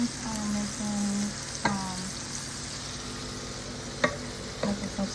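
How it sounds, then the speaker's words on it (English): Pork chops fry in a pan at a steady low sizzle, with a few sharp clicks and clinks from utensils or the pan breaking through; no one talks. "for tonight's dinner I'm frying some pork chops"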